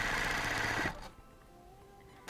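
A sewing machine quilts a flower design, running in a steady, close, loud whir that stops abruptly partway through and leaves a quiet room.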